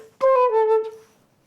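A flute plays a short run of about four full-value eighth notes from an audition etude, clean and close, ending quickly in silence.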